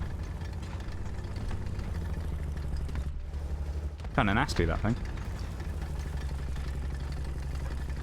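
A German SdKfz 234/2 wheeled armoured car engine in a video game hums steadily and close at a low, even idle throughout, with a voice speaking briefly over it midway.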